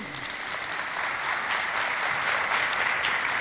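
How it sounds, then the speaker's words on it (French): An audience at a high school quiz competition breaks into sustained applause, a dense, steady wash of clapping heard at moderate distance. "On applaudit."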